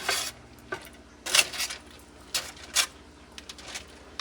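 Country-style ribs cut from chuck roast are turned over in a pan, producing a run of separate clinks, scrapes and knocks of utensil on metal with short sizzling bursts in between. The sounds are fairly close and there is no speech.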